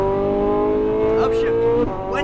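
A Ferrari 458 Italia V8 on a race track at full throttle, a loud, steady, high engine note climbing in pitch before a brief dip at a shift, with an instructor's voice over it.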